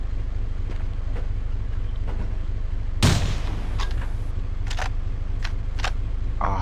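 Gunfire in the Half-Life game, a sharp loud shot followed by several quicker faint cracks over a constant low background hum.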